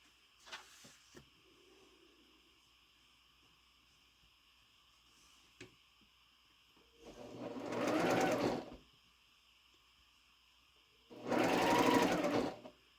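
A sewing machine stitches a North Star quilt block in two steady whirring bursts of about two seconds each, near and clear, separated by quiet pauses with small clicks and handling sounds.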